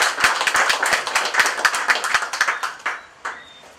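Audience at a political speech in Martinique clapping, a brisk run of close, sharp handclaps that thins out and fades into a few scattered claps near the end.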